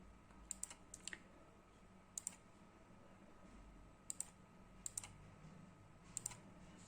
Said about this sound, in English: On the first line, we will write hello.